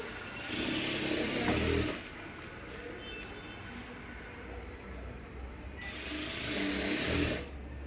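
A sewing machine runs while stitching a blouse lining, with two loud whirring bursts of stitching separated by a quieter pause, heard up close.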